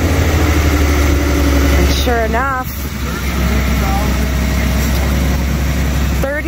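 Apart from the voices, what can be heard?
1978 Ford Pinto engine running at idle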